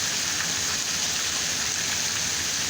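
Steady rain falls on a winter day in Arkansas, a dense, even hiss of drops hitting surfaces that holds at a constant level throughout, with no voices over it.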